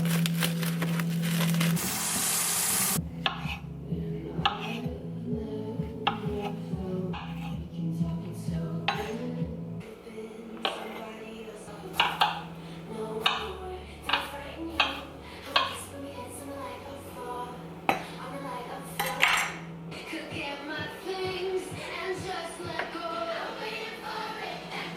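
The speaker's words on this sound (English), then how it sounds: "I'm gonna chop up my veggies while the oven preheats" A knife chops vegetables on a cutting board in a home kitchen, with a run of sharp, evenly spaced knocks, soft board scrapes and dish clatter, loud and close, and no talking.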